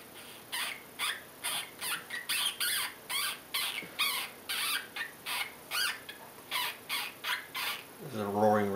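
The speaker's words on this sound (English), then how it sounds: "Vole squeaks." A FoxPro Spitfire electronic game call plays a vole squeak sound, a run of rapid, sharp squeaks repeating steadily at close range with no voice over them.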